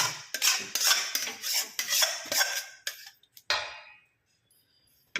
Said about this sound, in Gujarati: આપણે આ એક વાસણમાં કાઢી લીધું છે